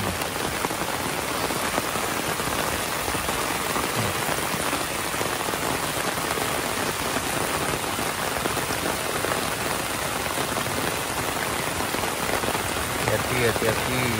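Heavy rain pours onto a mountain road, a dense, steady hiss of drops that holds at the same loudness for the whole stretch, close and unbroken.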